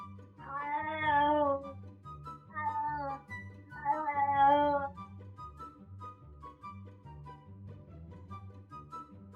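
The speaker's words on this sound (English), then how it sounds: "Perhaps this cat is feeling very lonely." A cat meows several times in drawn-out, wavering cries, three louder calls early on and fainter ones after, over a low rhythmic background hum.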